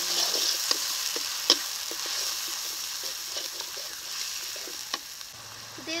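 A spice paste of ginger, garlic, cumin and tomato paste fries in a pan for okra curry, with a soft continuous sizzle broken by sharp spatula scrapes and clicks as it is stirred.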